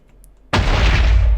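A Minecraft explosion detonates suddenly after a near-silent lead-in, a loud broadband boom that holds at full strength as a dense, rumbling roar through the rest of the moment.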